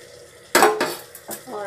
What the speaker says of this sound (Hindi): तो अब इसमें हम लोग कटहल को डालेंगे